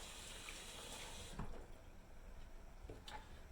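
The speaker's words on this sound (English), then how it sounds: "Wash my hands before I get back in there." Tap water runs steadily into a kitchen sink as hands are washed, a soft continuous splashing that shifts slightly as the hands move, with no voices.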